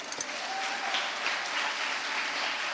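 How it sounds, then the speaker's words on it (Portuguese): A church congregation at a Belém conference applauds loudly and steadily, a dense wash of many hands clapping together in a large room, with no talking over it. "Quem entendeu aí, aplaude a Deus aí bem forte"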